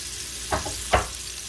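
Onion and burger patties frying for a chopped cheese sandwich, with a steady sizzle bed and two brief scraping stirs of a spatula, close and moderately loud, no talking.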